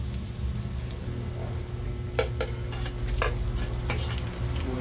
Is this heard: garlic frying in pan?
yes